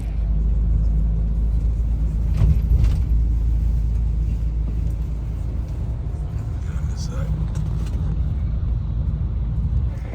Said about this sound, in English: Taking this tour bus.